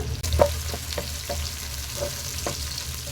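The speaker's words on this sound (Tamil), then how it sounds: "இப்போ வெங்காயம் லைட்டாக வதங்கும் போதே ரெண்டே ரெண்டு பல் பூண்டு போட்டுக்கலாம்" Onions and two garlic cloves sauté in a pan for a spicy kara chutney, giving a low steady frying hiss with several soft spoon scrapes at regular intervals, close and with no speech.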